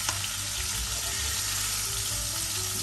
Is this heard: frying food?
yes